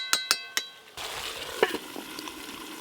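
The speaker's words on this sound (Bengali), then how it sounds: "এই যে এইভাবে নাড়তে নাড়তে কিন্তু খাসি মাংস থেকে জল বেরিয়ে গেছে" Pieces of mutton sizzle in a pan for a home-cooked mutton curry, with a few sharp clinks of a utensil at the start, then a steady close frying hiss and scraping stirs.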